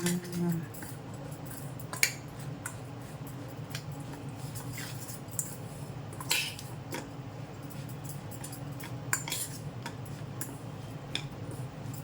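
Mango pickle is stirred in a bowl with a spoon, producing soft wet squelching and scattered sharp clicks of utensil on dish, close and irregular, while someone talks quietly.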